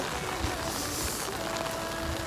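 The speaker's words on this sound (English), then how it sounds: "It's raining pretty hard, but the wind is honestly the worst part." Steady heavy rain with gusting wind on a street in South Korea, a continuous broadband wash of downpour and buffeting air, fairly close and even in level, with no voices.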